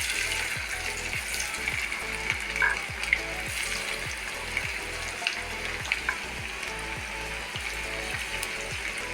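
Anchovies frying in oil in a pan produce a steady crackling sizzle, close and moderately loud, over a regular low mechanical ticking pulse in the background, with a few brief clinks and no voices.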